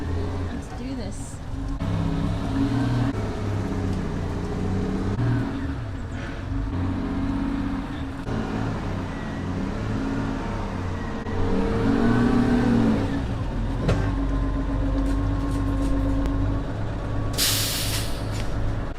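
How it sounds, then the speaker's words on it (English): A skoolie converted school bus's engine rumbles and revs steadily as it creeps about 20 feet forward, with a brief hiss of air near the end and people talking over the motor. "we're gonna let this air build, and then we're just driving forward like 20 feet"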